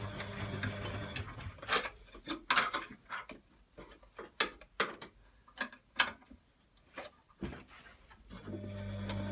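Bolts on a washing machine's belt tensioner being tightened with a ratchet or spanner, giving a run of sharp, close clicks and metallic taps in irregular bursts, some single and some clustered, with a low hum fading in and out.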